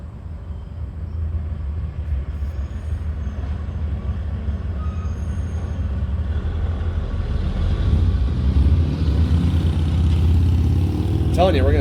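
Heavy trucks rumble past on a road, a continuous low roar that swells louder toward the end as vehicles pass close by, with no talk over it.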